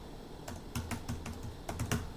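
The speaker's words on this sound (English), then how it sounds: "So I'm going to type that in here." Keys clack on a computer keyboard in a quick, irregular run of about a dozen taps, soft and close in a quiet room, with no voices.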